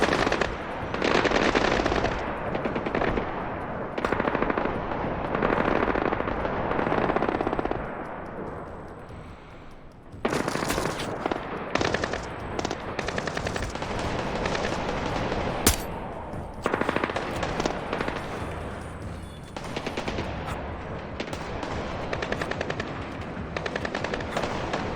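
Sustained automatic gunfire from a stealth action firefight in Splinter Cell: Blacklist, with dense bursts and sharp shots filling the clip at loud, close range, including a brief lull near the middle.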